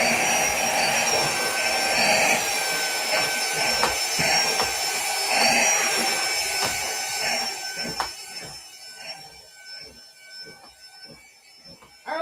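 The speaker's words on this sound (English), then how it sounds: "Let's give it another vacuum." A vacuum cleaner runs over a freshly embroidered sweatshirt, a loud steady whooshing roar with a high whine, then quiets and winds down toward the end, with some handling bumps.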